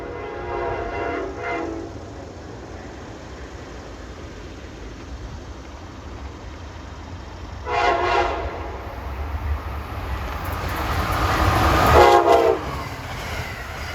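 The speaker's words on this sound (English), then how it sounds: "he's sounding his horn as he approaches the Susquehanna Bridge on the Havre de Grace, Maryland side" An Amtrak passenger train, number 134 bound from Roanoke to New York, sounds its horn approaching the Susquehanna Bridge at Havre de Grace, Maryland: three loud horn blasts, one short, one longer, then a long final one, over a steady rail rumble.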